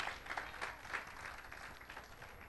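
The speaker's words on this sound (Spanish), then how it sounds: "el aplauso es para tu Dios" Soft, distant applause from a church congregation, a faint even patter of many hands with a few louder swells early on, fading slightly toward the end.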